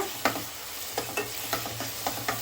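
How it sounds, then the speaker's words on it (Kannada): Ginger garlic paste frying in a pan for ghee boneless chicken, a close, steady sizzle with quick scraping stirs landing roughly every quarter to half second, no voices. "ಶುಂಠಿ ಬೆಳ್ಳುಳ್ಳಿ ಪೇಸ್ಟ್ ಹಾಕೊಂಡ್ಮೇಲೆ ಇದರಲ್ಲಿರೋ ಮೇಲೆ ರೋಗವರೆಗೂ ಇದನ್ನು ಚೆನ್ನಾಗಿ ಫ್ರೈ ಮಾಡ್ಕೊಳ್ಳೋಣ"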